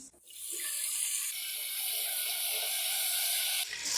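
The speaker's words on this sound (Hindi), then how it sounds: "साथ ही हम थोड़ा सा पानी डाल देंगे" Water poured into a hot pan of frying crushed red chilies sets off a loud, steady sizzling hiss that starts almost at once and carries on for about three seconds with no talk.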